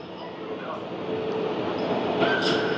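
A train at a railway station gives off a steady rumbling roar with faint metallic squeals and whines, an indistinct voice sitting under the noise.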